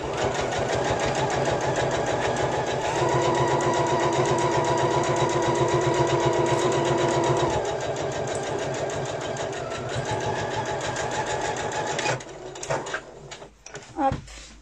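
A sewing machine running a long straight seam on a Lola pouch, a fast steady mechanical whir with regular needle rhythm that slows and stops, followed by a few clunks of handling near the end.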